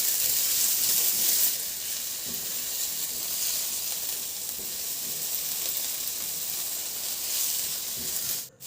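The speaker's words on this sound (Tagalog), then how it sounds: "mapainit na ako ng mantika at igisa ko na yung bawang. Igisa ko na rin yung sibuyas." Garlic and onion sauté in hot oil, giving a loud, continuous close-up sizzle that holds steady throughout and cuts off abruptly at the very end.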